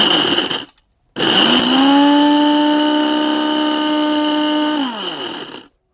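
An electric grinder grinding dried chillies: a short burst cuts off, then the motor restarts, its loud whine rising quickly to a steady high pitch, holding for several seconds before spinning down and stopping.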